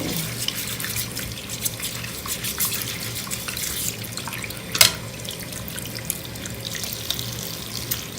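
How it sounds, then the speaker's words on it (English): A tap runs steadily into a sink as an amethyst crystal cluster and a brush are rinsed under it, a continuous close splashing with one brief louder clatter near the middle. "So we're just going to wash that off and wash my brush off."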